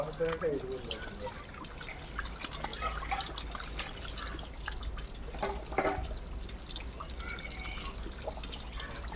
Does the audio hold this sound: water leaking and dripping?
yes